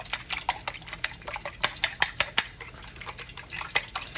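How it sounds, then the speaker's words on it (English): Eggs are whisked with a fork or spoon in a bowl for scrambled eggs, giving quick, rhythmic clinks of metal against the dish. The tapping is close and fairly loud, with no talking. "Mix them up just like this, and we're gonna do scrambled eggs today."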